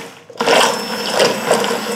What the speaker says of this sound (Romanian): așa că bag blenderul puțin